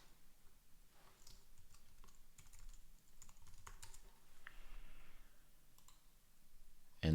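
Computer mouse clicks and keyboard typing while renaming a file, a quick run of close, light, irregular taps and clicks with no talking.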